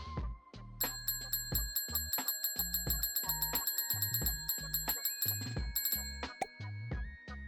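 In the Bits & Bops video game, a bell rings over and over in a quick, steady rhythm. Bright chiming tones carry over low bouncy music, and there is no talk.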